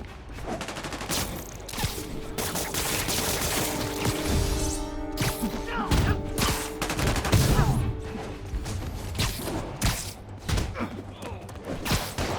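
Enemy gunfire in Marvel's Spider-Man Remastered: rapid volleys of shots and thuds rattle through a busy fight scene, mixed with impacts, music and voices talking over the action.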